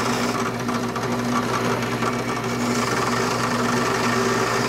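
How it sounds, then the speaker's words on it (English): Small spindle sanding tool shaping a custom leather holster, a steady high-pitched motor whine with a constant hum running unbroken throughout, close and fairly loud with no talking. "it makes a wonderful little spindle to get into the tight places that I can't reach with the big sander"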